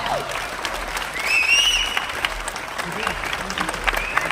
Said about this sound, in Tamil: எல்லாரும் நல்ல கைத்தட்டல் கொடுங்க